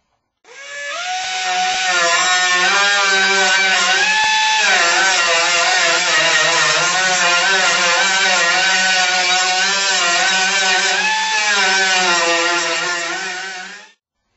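Grinder smoothing welds on a 1979 El Camino body, a loud continuous high-pitched whine holding steady for over ten seconds with slight pitch wavers, close and alone.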